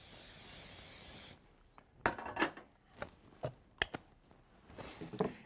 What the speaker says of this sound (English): give another shot of our zero fat spray pan coating